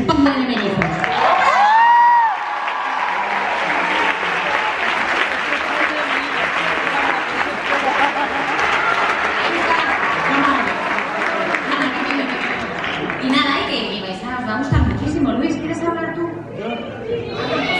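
Audience applause fills a film premiere screening at a festival, a sustained dense clapping from a large crowd with scattered cheers, beginning after a brief spoken introduction and tapering slightly near the end while a voice speaks.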